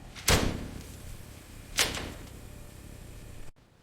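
Two sharp metallic clunks about one and a half seconds apart ring out as car lift locks engage beneath a rusted 1999 Mitsubishi Lancer Evo VI, each trailing off into a brief resonance.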